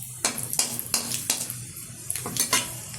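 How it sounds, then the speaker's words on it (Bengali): Black cumin seeds going into hot oil for tempering, with a string of sharp metallic spoon-on-pan clinks and scrapes over a soft frying hiss, close and without talking. "দিয়ে দিচ্ছি কিছুটা কালো জিরে ফোড়ন"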